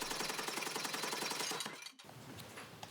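Rapid, regular hammer blows beat gold leaf at a goldbeater's workbench, a dense metallic pounding that runs steadily and then breaks off abruptly, leaving a quieter stretch of faint scattered taps.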